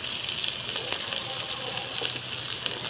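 Chopped onion and turmeric frying in hot oil give a steady, close, bright sizzle with small pops and crackles, and the occasional scrape of stirring, without any talking.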